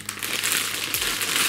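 Plastic bag crinkling loudly and close as a plush polar bear is unpacked from it, a continuous rustling and crumpling burst with no talk.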